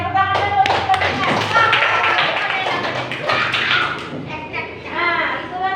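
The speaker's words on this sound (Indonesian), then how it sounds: "tepuk tangan dulu untuk temannya" Schoolchildren in a classroom clap for a classmate after a science observation report, quick bursts of hand claps mixed with lively children's and adults' voices throughout.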